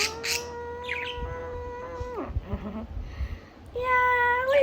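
A pet budgie gives several close, bright chirps and squeaky whistles, some long and steady, some quick, with a person's soft voice briefly in between.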